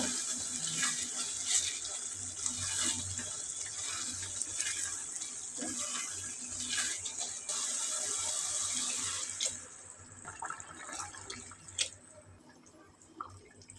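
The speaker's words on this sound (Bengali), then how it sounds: "এখন আমি ফুটানো গরম পানি দিয়ে দিব" Boiling hot water poured into a cooking pot of braised curry in a home kitchen, a steady rushing splash that runs loud for about nine seconds, then drops away to scattered drips and clinks.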